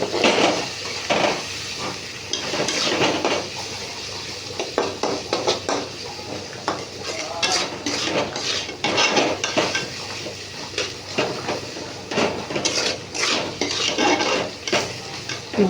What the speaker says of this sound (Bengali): নুন লঙ্কা হলুদ দিয়ে মশলাটা একটু কষে নেবো